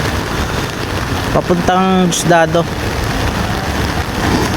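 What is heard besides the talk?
heavy rain falling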